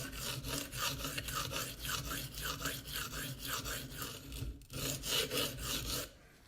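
Spyderco Endura knife being freehand sharpened on a stone, a steady series of close raspy strokes in an even back-and-forth rhythm, about a dozen passes with a brief pause near the end, no voices.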